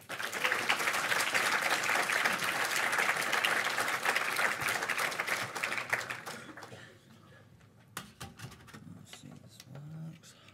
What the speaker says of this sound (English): So give these guys a huge round of applause.